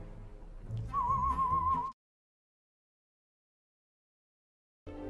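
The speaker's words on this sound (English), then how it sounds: "What's that noise? Whistling." A person whistles a short wavering tune for about a second over murmuring background sound, then the clip falls silent before the sound briefly resumes.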